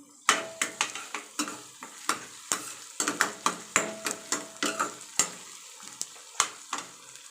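Spoon stirring a frying tempering of cumin, turmeric, tomato and chopped green chillies in a pan, with a steady run of sharp scraping strokes and taps over a soft sizzle, close and moderately loud with no talk.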